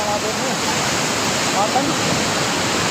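A river swollen by a cloudburst rushes past as a loud, steady, broadband roar of floodwater that fills the whole stretch, with a voice faintly present beneath it.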